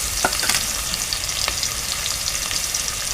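Chopped onion and curry leaves fry in hot oil with a steady, close hiss, broken by a few soft clicks of stirring.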